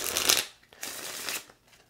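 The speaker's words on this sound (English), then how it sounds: "go ahead and grab the deck of cards, clue cards, and shuffle them up" A deck of clue cards for the Purrrlock Holmes board game gets shuffled up close in two quick, papery riffling bursts, with a brief pause between them.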